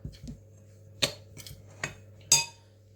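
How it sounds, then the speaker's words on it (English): Metal spoon stirring a cheese straw mixture in a bowl, giving four sharp clinks against the bowl spaced about a second apart over a low steady hum, with no talk. "get a metal spoon to just give it a quick stir around to mix it all in"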